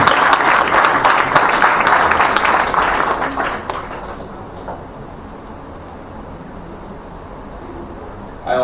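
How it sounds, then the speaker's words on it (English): Applause from the audience at a law college moot court competition, dense and loud clapping for about four seconds, then fading into quiet room tone with a short noise at the end. "So let's give them a big hand of applause."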